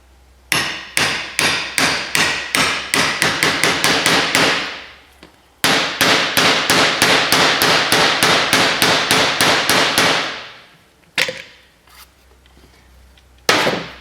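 A hammer pounds a part into place during an engine and transmission install on a 1980 Chevy Silverado: two long runs of rapid, loud metallic blows that speed up, followed by a few isolated strikes.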